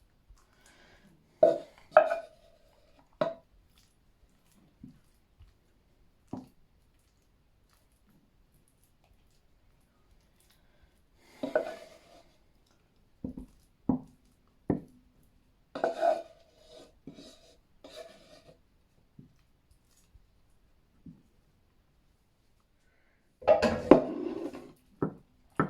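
A utensil scrapes mashed potato out of a pan and spreads it over mince for a cottage pie, making short rasping scrapes in scattered bursts separated by long quiet gaps, close and fairly soft.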